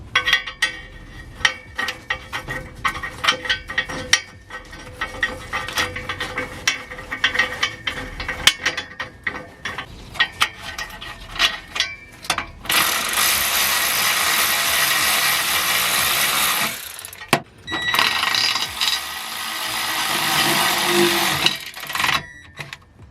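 Ratchet wrench clicking as bolts are tightened on a heat shield under a Mini Cooper, with stretches of quick steady ratcheting broken by pauses, close and clear, with no talk.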